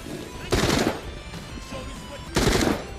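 Gunfire in the video game The Walking Dead: Saints and Sinners comes as two close, loud bursts of rapid automatic shots about two seconds apart, with faint speech and game ambience between them.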